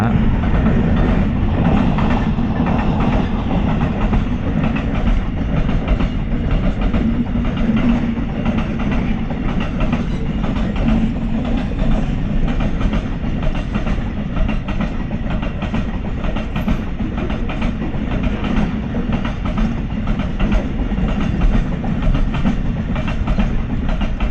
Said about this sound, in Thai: โอ้รถไฟมาอีก